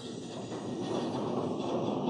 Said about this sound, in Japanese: またね、電車が通りました